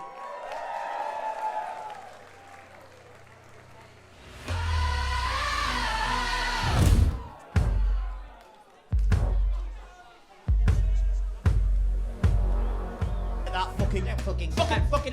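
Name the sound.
audience cheering and applauding at drag show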